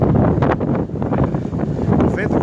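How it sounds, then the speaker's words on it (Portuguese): Strong gusts of a violent windstorm of about 180 km/h in Arcoverde, Pernambuco, roar and buffet the microphone loudly and continuously, with a voice talking over the blasts. "vento forte aqui, arrebentando com tudo"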